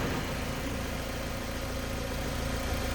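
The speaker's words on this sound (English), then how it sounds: "Nice and clean, smooth running engine," A 2007 Mazda MX-5 Miata Grand Touring's 2-liter dual overhead cam four-cylinder engine idles steadily and smoothly, a soft, even low hum held close with no voices over it.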